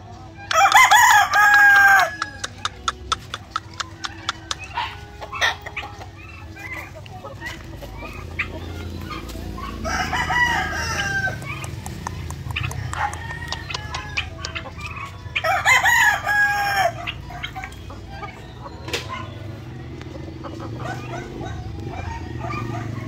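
A sweater asil gamefowl rooster on a Filipino breeding farm crows loudly and close several times, with a dog barking between the calls and someone talking in the background.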